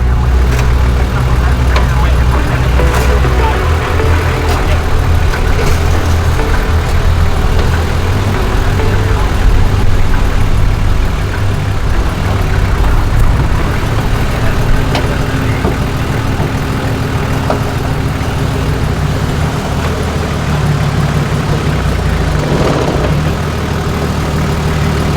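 Nissan GQ Patrol 4WDs crawl down a steep, rocky track near Lithgow through rock gardens with car-sized boulders, their engines giving a steady, continuous rumble that stays loud and close throughout, with grinding and knocking from the rough ground.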